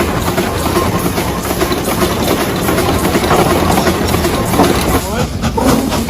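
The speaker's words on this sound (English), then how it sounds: "It has a 2-cylinder engine with a top speed of 3 miles per hour." An antique coal- or wood-fired two-cylinder steam traction engine runs with dense, continuous mechanical chugging and clatter, loud and close throughout, with a faint high whine over it.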